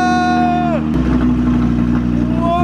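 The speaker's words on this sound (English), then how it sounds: "Go on, start it up. I haven't heard the exhaust either." A new car's engine turns over and settles into a loud, steady, close exhaust rumble that holds without pause.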